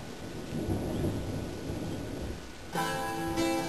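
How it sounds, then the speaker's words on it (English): Steady rain pours through a stormy night while low thunder rumbles beneath, a dense continuous wash that shifts in tone near the end. "It's stormy."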